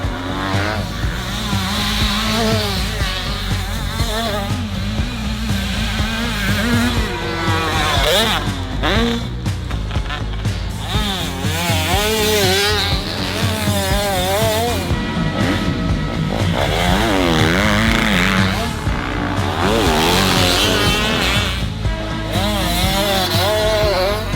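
Motorcycles ridden on a track without using the rear brake: engines rev and wind up and down continuously, with a buzzing, whining roar that rises and falls, loud and close throughout.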